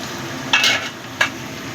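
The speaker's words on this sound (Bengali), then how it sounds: "সবজিটা আমার ভালো মতো ভাজা হয়ে গেছে।" Vegetables for vegetable fried rice cook in a pan: a quiet, steady sizzle with two brief, sharp scrapes of stirring about two-thirds of a second apart, and no talk.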